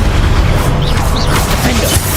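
Booming, crackling magic blasts from fire, explosive and ice spells in the Hogwarts Legacy game, dense and continuous over game noise, with a voice speaking throughout.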